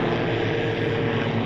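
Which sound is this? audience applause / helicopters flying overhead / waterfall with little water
helicopters flying overhead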